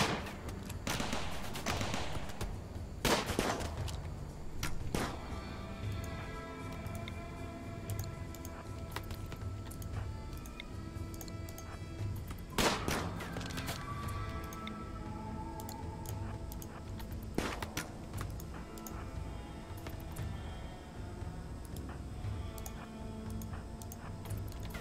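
Scattered gunshots from a RimWorld colony firefight, sharp cracks popping at irregular intervals over a steady background of game ambience, with a few louder bursts standing out.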